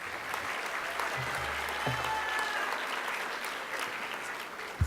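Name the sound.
audience applause for students at school board meeting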